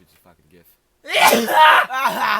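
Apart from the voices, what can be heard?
a sneeze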